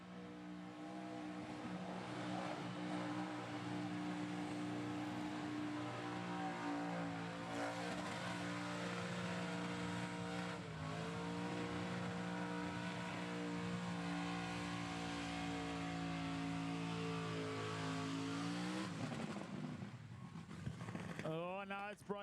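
A burnout car's engine revs hard and steady at a Burnout Masters burnout pad, then the pitch sags and stumbles as it loses RPM near the end. The engine is loud and close with crowd noise underneath.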